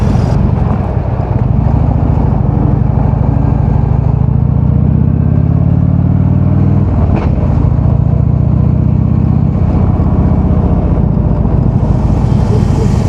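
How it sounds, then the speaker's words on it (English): A Harley-Davidson Twin Cam 103 motorcycle engine rumbles steadily and loudly throughout, a deep continuous drone with a brief throttle change midway and some wind buffeting, no talk. "Nothing like that rumble of an old Harley-Davidson."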